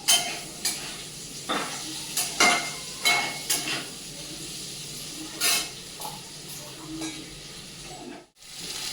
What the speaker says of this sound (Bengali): আলু সবজি গাজর টাজর সব ভাজা হয়ে গেছে